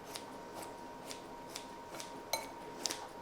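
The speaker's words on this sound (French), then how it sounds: "Je fais ça avec des ciseaux d'école" Quiet, steady snipping of school scissors in a kitchen, a regular series of light crisp cuts, with a couple of sharper metallic clicks near the end.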